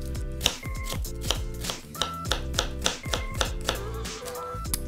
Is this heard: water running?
no